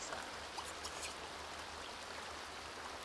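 Steady rain hisses in The Sims 2 video game, a soft, even wash of falling drops heard alone with no voices.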